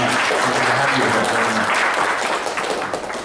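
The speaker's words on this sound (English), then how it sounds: "Big round of applause for Jan Perry." An audience claps for Jan Perry at a veterans' event: a full, steady round of applause from a crowd, with a voice underneath early on, easing slightly toward the end.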